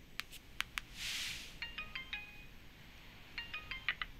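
A phone plays a bright ringtone while a call is placed: a series of short electronic beeps and chimes in two clusters, close and clear with no talk.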